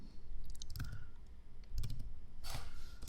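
Typing a customer name on a computer keyboard in accounting software, with clusters of quick key clicks close by and short pauses between bursts.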